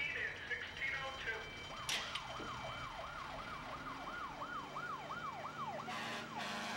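An ambulance siren wails in a rapid, repeating up-and-down pattern as it responds to a call about an odor of gas, heard at moderate distance over low traffic hum with a few sharper bursts of noise.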